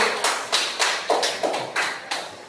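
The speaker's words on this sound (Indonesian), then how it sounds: "Silakan duduk dan tepuk tangan untuk kelompok terampil." Schoolchildren in an Indonesian classroom clap their hands for a group, a rhythmic series of about eight sharp, evenly spaced claps heard close and clear.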